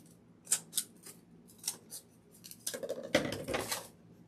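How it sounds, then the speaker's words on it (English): Sharp scissors snip repeatedly while cutting craft material for a giant gingerbread man made from a doll; crisp close snips, first spaced, then a quicker cluster of rustling cuts. "get you some good scissors that's sharp, but not your fabric scissors to cut"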